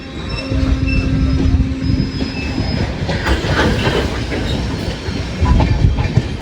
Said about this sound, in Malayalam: കണ്ടോ റോറോ ട്രെയിൻ പോകുന്നത്?